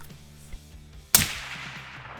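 A single sharp, loud crack from a hunting rifle being zeroed ends with a brief decaying tail, set against a quiet low hum.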